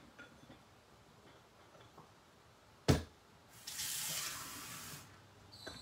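A paintbrush is rinsed under a running tap in a sink after art journaling, a brief sharp splash followed by a steady hiss of water for over a second, then quiet.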